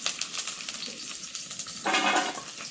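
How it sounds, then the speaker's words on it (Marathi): Ginger and garlic sauté in oil with a soft sizzle and light clinks of a utensil on the pan, and the frying swells louder near the end. "लसूण आलं परतून घ्यायचं चांगलं"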